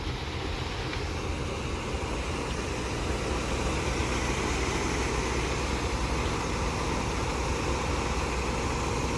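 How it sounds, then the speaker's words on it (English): Old car engine idling after an oil change with five quarts added, a steady, even low rumble and hiss that stays constant throughout, heard close with no talking. "We're gonna let her idle for a minute."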